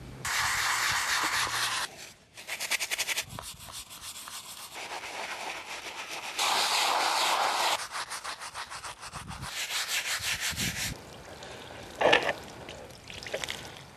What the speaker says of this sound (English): we're going to begin to scrub the monument with various brushes.